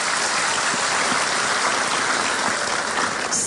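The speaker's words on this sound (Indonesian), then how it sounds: "Tepuk tangan buat Pak Rektor kita." A large crowd applauds the university rector at a televised spiritual talk event, dense, loud, continuous clapping sustained evenly from start to finish like heavy rain.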